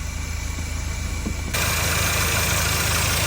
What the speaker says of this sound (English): So I'm just going to run the engine for 5 minutes and then leave it switched off for 10 minutes